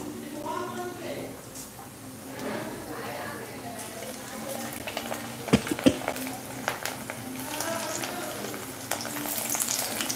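Cauliflower pakoda batter is dropped bit by bit into hot oil, producing a steady close sizzle with a few sharp clattering knocks while someone talks over it throughout.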